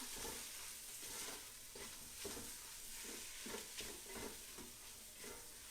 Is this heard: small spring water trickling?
no